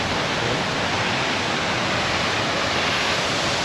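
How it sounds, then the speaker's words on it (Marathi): Savatsada waterfall near Chiplun roaring steadily, a dense, unbroken rush of falling water heard up close with no voices. "हाच आहे तो धबधबा आहे बघा"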